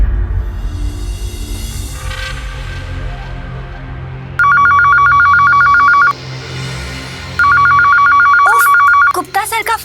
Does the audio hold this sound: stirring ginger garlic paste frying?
no